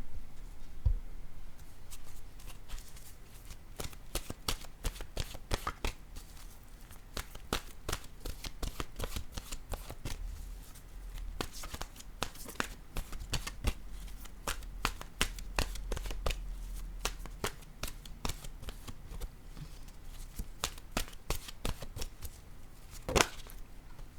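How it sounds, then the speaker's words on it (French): Oracle cards being shuffled by hand: a long run of quick, crisp riffling and snapping, fairly close, in bursts and steady stretches with no talk, ending in a sharper slap of the deck. "je vais piger une carte de mon oracle, de l'âme intuitive"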